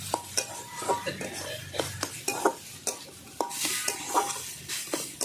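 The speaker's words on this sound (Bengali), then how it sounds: "আজকে ভিট রান্না করছি আমি ভিটের ভাজা করছি" Beetroot fries in a pan while a utensil stirs and scrapes, giving repeated sharp clinks and scrapes over a steady low sizzle. No one speaks.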